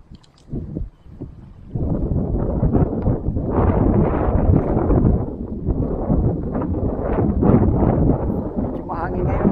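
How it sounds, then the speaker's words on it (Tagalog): Strong coastal wind on a fishing trip in Catbalogan City, Samar buffets the microphone in a steady roaring rush after a brief quieter start, with a voice briefly audible early on. "Mahangin ngayon dito"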